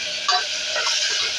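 Turmeric powder hits hot oil for pepper rasam, giving a steady close broadband sizzle with a brief louder crackle near the start and light stirring throughout.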